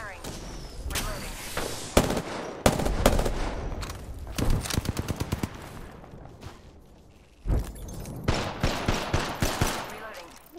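Rapid bursts of automatic gunfire in an Apex Legends battle, clusters of close, sharp shots separated by brief pauses, with a player's voice talking over the fight.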